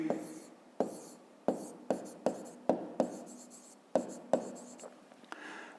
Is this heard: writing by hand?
yes